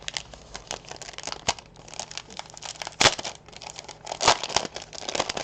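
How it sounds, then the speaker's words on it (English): Plastic packaging of a Goonies collectible gift set being opened to reveal a facsimile map: close, crisp crinkling and tearing with a few sharp crackles and rustles throughout, no talking. "Package opening."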